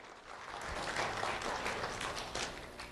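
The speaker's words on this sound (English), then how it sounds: "Round of applause, please, for Javier Garcia Davila." Applause at a Sheriff's Office recognition ceremony for elementary school students, a moderate crowd clapping steadily, quiet and somewhat distant, swelling slightly and holding throughout.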